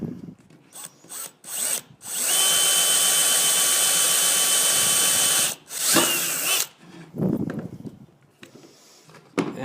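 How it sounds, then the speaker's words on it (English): A power drill bores through the plastic outer layer of a downspout catch basin, a loud, close whine of about three and a half seconds, followed by shorter bursts and handling clatter. "I'm going to drill through this outer layer and then put a screw into the other layer"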